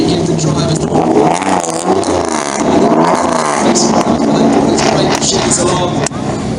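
Supercar exhaust revving at a parade, loud and close, with surging engine roar and crackle over a noisy crowd, people talking and cheering throughout.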